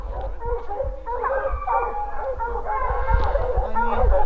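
Pack of hunting hounds baying and howling on a mountain lion chase in Colorado, a dense chorus of overlapping cries and yelps at moderate distance, carrying on continuously with some low wind and handling noise.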